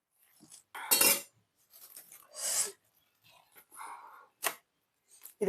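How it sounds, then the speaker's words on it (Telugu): Country chicken curry ingredients mixed by hand in a bowl: a few separate squelching, clinking bursts with quiet gaps between them, close and alone. "ఇవన్నీ వేసిన తర్వాత ఈ విధంగా బాగా కలుపుకోవాలి"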